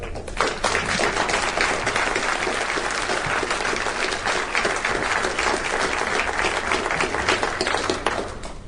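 A large audience applauds steadily, dense clapping sustained at an even loudness from start to finish.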